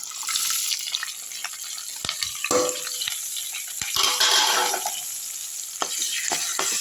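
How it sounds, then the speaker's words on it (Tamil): Onions and green chillies sauté in hot oil in a pan for semiya rava upma, sizzling steadily up close. Occasional stirring scrapes and clinks are heard, with no talking. "வெங்காயம் பச்சை மிளகா இதெல்லாம் எடுத்து அப்படியே வந்து இதில் போட்டுடலாம்"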